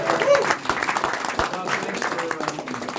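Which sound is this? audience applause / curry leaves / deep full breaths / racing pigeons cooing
audience applause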